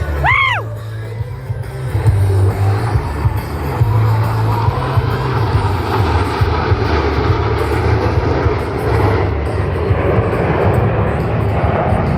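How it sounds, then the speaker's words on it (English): Blue Angels jets flying in tight four-aircraft formation at a 2025 air show give a loud, sustained roar that rises from a brief rushing swell into a steady, broad rumble with no voices. "the precision flying that produces the 18-inch wingtip to canopy separation between these four aircraft"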